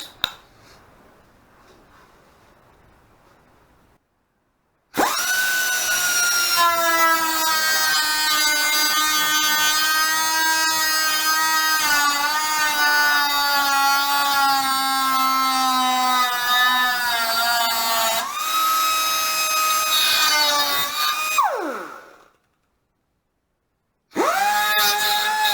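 A power tool slices through metal on a 1941 Dodge WC13, a loud sustained whining cut of about sixteen seconds with a steady buzzing drone, then a falling wind-down and a short burst restarting at the end.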